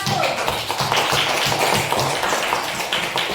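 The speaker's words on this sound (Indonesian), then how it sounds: "Tepuk tangan untuk kelompok 1" Classroom applause for a student group after their presentation in a lesson on honesty and respect, a loud dense patter of many hands clapping continuously and close by, with no talking over it.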